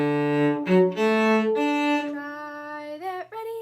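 A cello bows a syncopated rhythm on and around open D, with rich, resonant sustained notes, small pitch shifts and short rearticulations, heard up close with no talking.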